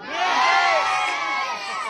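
A small crowd shouts and cheers together at a grand opening party for a pares eatery, a loud, close burst of mixed voices lasting the whole two seconds without pause.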